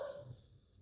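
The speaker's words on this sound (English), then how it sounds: "If you hear any of my dogs barking in the background" Dogs bark faintly somewhere in the background, a single short, distant yip among a few quiet tones.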